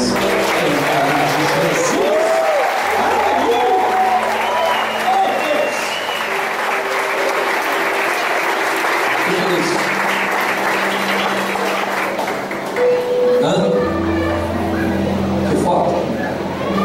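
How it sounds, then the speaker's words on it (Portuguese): A church congregation breaks into sustained, full applause during a service, with sustained tones and voices running beneath the steady clapping. "rendemos orações de graças ao Senhor com uma salva de palmas"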